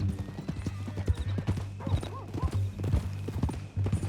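Horse hooves clip-clop at a steady walking pace in Red Dead Redemption 2, close and distinct over a low ambient hum, with a brief snort or whinny-like sound partway through.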